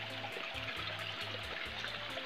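A flowing river in the Pangandaran nature area of Indonesia, heard as a continuous, even rush of water with a low intermittent hum beneath.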